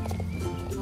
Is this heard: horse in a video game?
yes